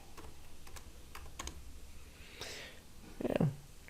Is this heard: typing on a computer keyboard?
yes